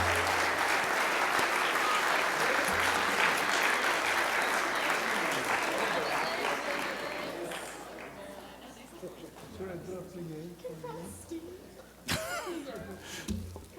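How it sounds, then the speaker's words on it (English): An audience at an awards ceremony honouring teachers applauds Crystal Apple Award winners, a dense, loud round of clapping that slowly thins and fades, with scattered laughter and voices emerging as it dies down. "a nice round of applause for them and our current Crystal Apple Award winners."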